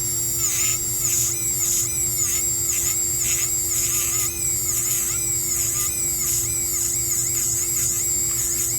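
A rubber wheel on a dental handpiece trims an acrylic partial denture, giving a steady high-pitched whine that rises and dips as it presses against the acrylic, close and continuous throughout with no talking.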